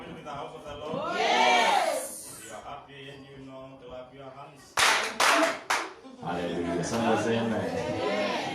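A church congregation claps hands together, a dense, loud burst of applause that comes in several sharp waves alongside crowd chatter and voices.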